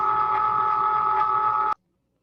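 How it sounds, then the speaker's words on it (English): A Cricut Maker cutting machine powers on with a steady electronic tone and hum, loud and close, holding for under two seconds before cutting off abruptly into silence. "So I'm going to turn on my maker."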